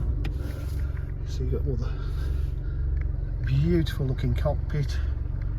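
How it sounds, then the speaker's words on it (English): A BMW 1 Series 116d M Sport with a 1.5-litre diesel engine and DCT gearbox idles with a steady low rumble, while someone talks over it close by. "Just start the car up."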